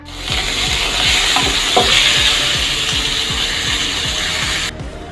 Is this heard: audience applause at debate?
no